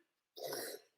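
A single short cough from one person, close and fairly loud, lasting under half a second after a brief silence.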